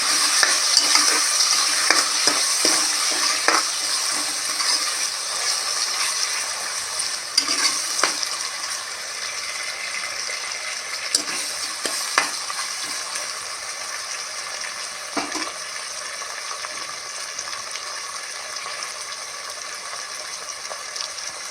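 Tomatoes sauté with green chillies and rock salt in a pan for seeraga samba chicken biryani, a bright continuous sizzle with occasional spoon clinks and scrapes against the pan, fading slightly over time.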